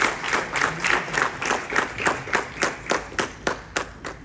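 A crowd at a business forum in Worcester claps to welcome a speaker, with a steady, rhythmic and fairly loud round of applause and almost no talking.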